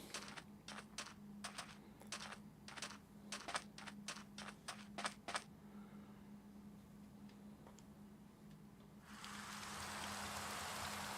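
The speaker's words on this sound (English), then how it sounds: "And of course it's starting to rain." Steady broadband rain hiss sets in near the end of a Minecraft game scene, following a run of sharp clicking taps and a faint background hum.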